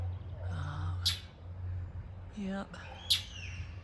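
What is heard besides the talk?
loud bird calling in a backyard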